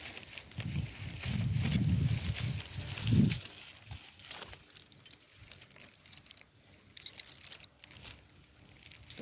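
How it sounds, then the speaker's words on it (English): Keys jangle and clink during a nighttime paranormal investigation at a cemetery, a burst of metallic rattling in the first few seconds, followed by quieter handling noises and faint shuffling. "Get my keys."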